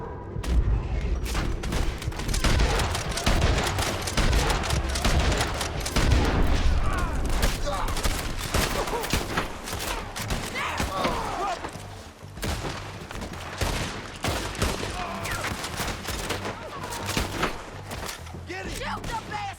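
Gunfire in the video game Red Dead Redemption 2: a dense, sustained fusillade of close and distant gunshots and booms, with shouted voices mixed into the battle.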